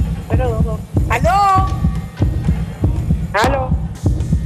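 A heartbeat sound effect on a Spanish-language television game show thumps in a steady, loud, regular rhythm, with short voiced sounds heard briefly over it.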